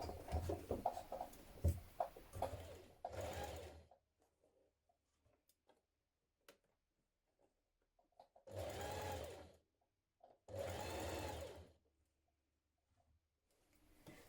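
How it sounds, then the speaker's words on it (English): Several short bursts of a sewing machine stitching bias tape onto a blouse neck edge with a 1 centimetre seam, separated by quiet pauses, close and clear. "We're going to stitch with a 1 centimetre seam."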